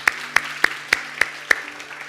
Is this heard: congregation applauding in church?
yes